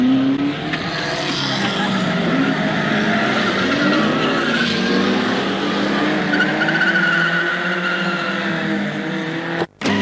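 Racing cars lap the track at Mallory Park in 1974, a loud continuous engine roar with tyre squeal as cars negotiate the hairpin, sustained and near throughout.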